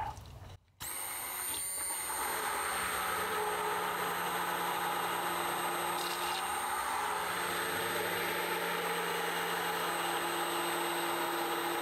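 A mixer on its slowest speed churns a ceramic glaze, a steady close motor whine with a constant hum lasting throughout after a brief knock and pause at the start.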